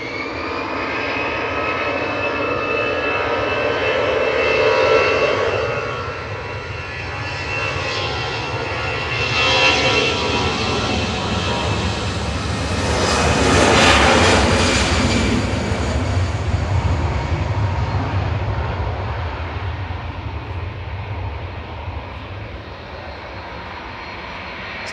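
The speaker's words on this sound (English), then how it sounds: "EasyJet to Paris Charles de Gaulle with flight 2105 next." An EasyJet jet airliner departing Manchester for Paris Charles de Gaulle, its engine roar rising and falling in waves and peaking loud and close midway before easing off.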